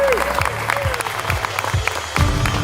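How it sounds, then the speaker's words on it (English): Audience applause at a Sri Lanka Day cultural program run by the Sri Lanka Foundation in Los Angeles, a loud, steady round of clapping with crowd noise filling the whole stretch. "One more round of applause."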